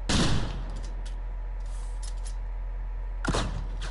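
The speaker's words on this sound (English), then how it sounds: "It's a shotgun." A shotgun in the first-person shooter STRAFE fires two loud blasts, one at the start and one near the end, with a steady in-game hum between them.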